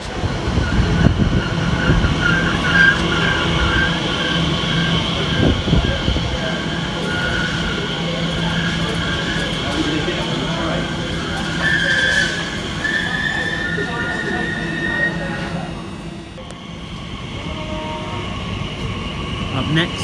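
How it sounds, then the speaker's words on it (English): Elizabeth Line Class 345 electric train arriving at a station on the Great Eastern Main Line, a loud rumbling roll of wheels and carriages with occasional squeals and hiss, gradually easing as it slows, with a voice talking over it. "And now arriving the 1041, the Elizabeth Line service from Shenfield through to Heathrow Terminal 5."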